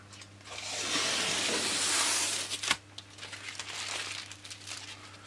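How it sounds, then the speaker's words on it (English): Adhesive tape is peeled away from a balsa model aircraft wing skin, a close, crackly tearing and crinkling sound lasting a couple of seconds, followed by quieter rustling. "take off the tape"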